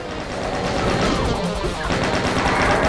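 Rapid chaingun fire in Doom II, Alien Vendetta map 13, a dense continuous burst of gunshots with crashing impacts filling the whole stretch, loud and close.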